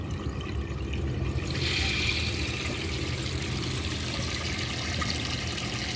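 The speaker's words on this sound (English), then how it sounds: "I'm gonna add a little more water to the bowl so it can do a good flush." Water being poured into the bowl of a 1998 Nacesa toilet, a close, steady splashing trickle that swells after a quiet moment and runs on continuously.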